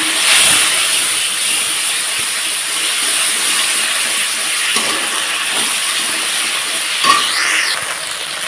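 Ginger, cumin and chili paste hits hot tempering oil for a low-oil vegetarian soybean dish, giving a loud, steady, close sizzling hiss that runs throughout with a couple of faint clinks and no talking.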